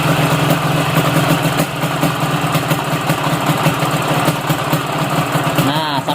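A motorcycle engine idles steadily after a carburetor air-fuel mixture adjustment, a loud continuous low rumble throughout, with a brief faint voice near the end.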